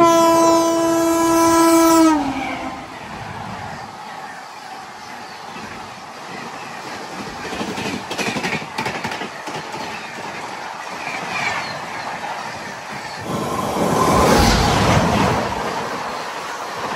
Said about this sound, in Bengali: বৃষ্টিটা কমতে কমতে ট্রেনও ছেড়ে দিয়েছে।